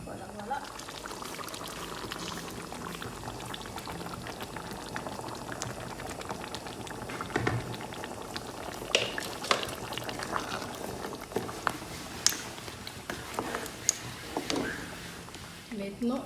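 Okra sauce bubbling in a pot on the stove, a continuous soft boil with scattered wet pops and plops, and a voice talking at moments over it.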